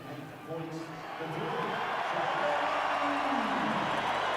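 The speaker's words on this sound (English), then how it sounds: "Big cheer." A stadium crowd at a 2002 All Blacks versus Italy rugby test roars in a big sustained cheer that swells after the first half-second and holds loud and broad under faint commentary.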